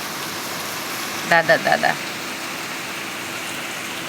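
Rain falls in a steady, even hiss the whole way through, with a brief voice calling out near the middle.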